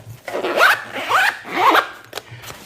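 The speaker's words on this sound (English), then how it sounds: "When you zip it, let me zip it right quick." A pen case made of sturdy material is zipped in three quick pulls, close and crisp with short rasping zips and brief pauses between strokes.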